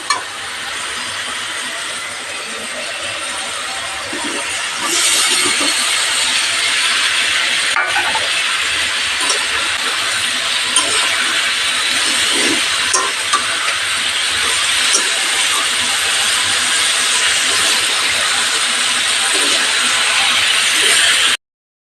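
Fried vegetables sauté with spice paste for a labra curry, giving a loud continuous hiss and sizzle that swells after a few seconds and holds steady with faint stirring scrapes.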